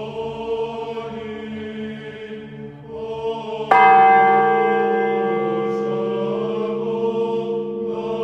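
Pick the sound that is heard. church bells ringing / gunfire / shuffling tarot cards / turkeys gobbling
church bells ringing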